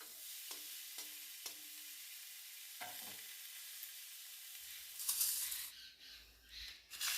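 A fritter mix fries in a pan with a faint, steady sizzle, interrupted by a few light clinks and scrapes of stirring, then louder clattering handling near the end.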